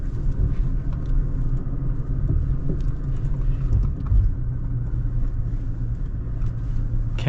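A Toyota Tacoma Trail Edition pickup crawls off-road over rocks, its low engine rumble steady and close with faint knocks and scrapes from the terrain, no talking.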